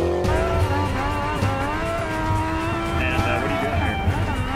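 A Mustang drifts with a steady, loud engine roar and tire squeal running throughout, with a voice speaking over it.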